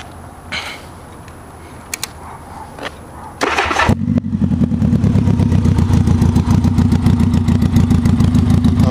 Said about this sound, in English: But I'm going to go ahead and fire it up.